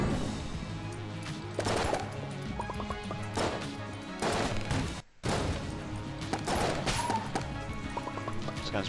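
Rapid gunfire in the bullet-hell game Enter the Gungeon, repeated sharp bursts of shots over constant game music, with a brief drop-out midway.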